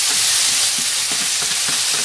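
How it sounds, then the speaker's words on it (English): Onion and garlic frying in a pan while being stirred, a loud, steady sizzle with soft scraping strokes of the spoon, no talking. "we're going to give it a good stir yet again"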